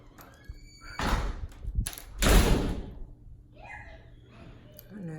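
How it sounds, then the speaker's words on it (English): A door pushed shut in a home during a makeup tutorial, giving a couple of broad thuds close by, with faint children's voices in the background. "Shut the door, please."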